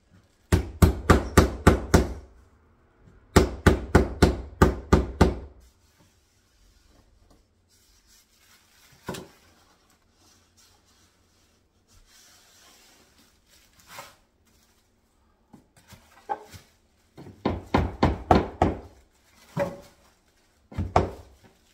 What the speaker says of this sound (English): I need to nail this so it can stay in place.